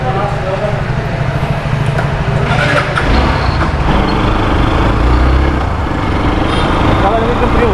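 A Hero Xpulse 200 4V motorcycle engine runs steadily up close, a continuous low mechanical drone with a brief louder surge midway, while people talk over it.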